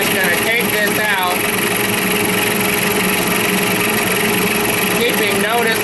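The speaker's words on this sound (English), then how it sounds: "That big fan is noisy." A big, noisy fan running steadily in a workshop where a graphite melting dish is being made, a loud constant whirring drone with someone talking over it.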